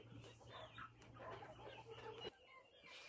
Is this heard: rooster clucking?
yes